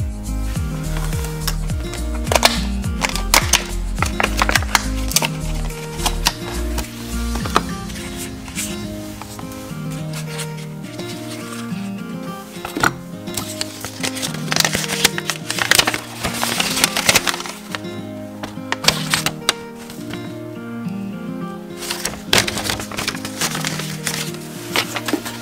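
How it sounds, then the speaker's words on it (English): A Mugen oil cap for an S2000 engine bay being unboxed, with irregular crinkling, rustling packaging and sharp knocks and taps, some louder bursts, close by and without speech. "So right now we're going to go ahead and unbox the Mugen oil cap."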